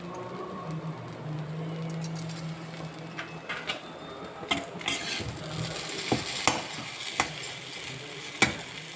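Lemon fried idli stirred in a pan with salt and lemon juice, giving a steady soft scraping and sizzling bed with sharp clinks and knocks of the spoon against the pan growing more frequent toward the end.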